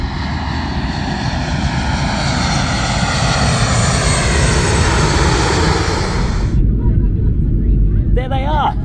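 A propeller-driven light aircraft flying low over the end of a runway: a loud, continuous engine roar close by for several seconds that cuts off sharply near the end, followed by a voice speaking.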